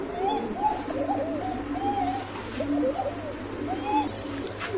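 Pigeons coo repeatedly in low, rolling bursts, several birds overlapping close by, over a steady low hum.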